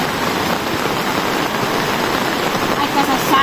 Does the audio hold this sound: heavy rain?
yes